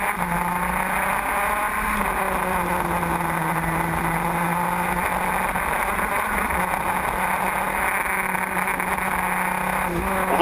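Racing karts lap a track at a spring national kart meet, their engines a loud, steady, unbroken drone throughout, with a commentator talking over the racing.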